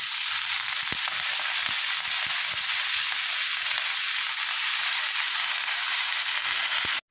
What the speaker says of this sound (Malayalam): അത് കഴിഞ്ഞ് നമ്മൾ അരിഞ്ഞ് വെച്ചിരിക്കുന്ന ചീര ഇട്ട് കൊടുക്കുക